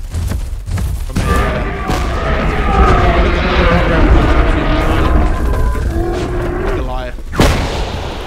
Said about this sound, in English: We're taking fire from a tank as well